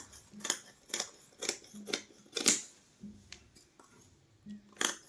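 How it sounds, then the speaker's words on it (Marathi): Scissors cutting blouse fabric, a steady series of about six crisp snips, close and clear in a quiet room. "आपण आता मेन फॅब्रिकवर लगेच कटिंग करू हा आहे ब्लाऊज पीस"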